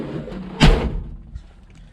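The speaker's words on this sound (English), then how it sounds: "actually, I'm going to close this door too" A Datsun 521 car door being shut, a single close, solid thump with a brief rattle and then quiet.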